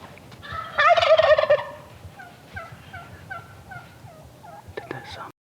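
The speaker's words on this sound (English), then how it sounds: "There's one in the tree right here. Gobblers." Wild Merriam's turkey gobbler sounding off outdoors with one loud rattling gobble at mid distance, followed by a run of softer repeated calls and clucks over faint background noise.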